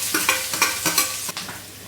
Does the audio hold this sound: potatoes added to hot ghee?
yes